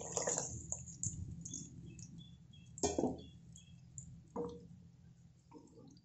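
Tamarind-masala water is poured into a pan of brinjal kuzhambu, giving soft splashes, drips and squelches with a few light clinks against the pan, quiet and close.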